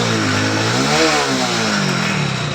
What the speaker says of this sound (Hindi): मैं आपको एक्सीलेटर मार के दिखा देता हूँ